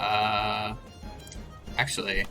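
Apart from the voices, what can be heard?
goat-like creature bleating in the video game Temtem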